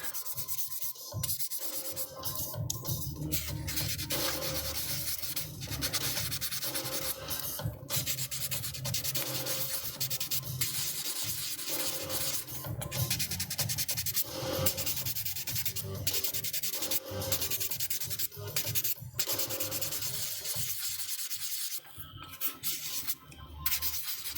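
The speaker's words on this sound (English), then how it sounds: "I'm letting the sander do all the work." Power sander working steadily on the seamlines of a plastic Macross Queadluun Rau model kit, a continuous close rasping whir with small shifts in pressure throughout.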